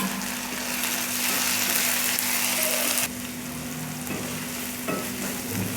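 Chopped tomatoes drop into a pan of frying onion and chili, giving a loud, dense sizzle that eases slightly partway through and continues as a steady hiss.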